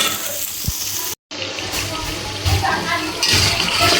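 Onion, turmeric, chilli powder and tomato paste fry in a pan for a fish curry, giving a continuous sizzle with stirring and a brief dropout, while a voice is heard over it.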